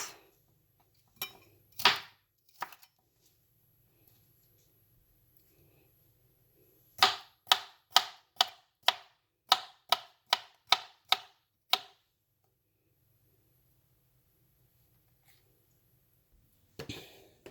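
A knife chops chicken into cubes for pan-fried chicken shashlik: a few scattered strikes, then a quick, even run of about ten crisp chops on a board, with near silence between.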